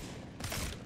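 Wingman pistol hip-fire shots in Apex Legends, a dense burst of overlapping gunfire that swells loud in the second half of a very short moment.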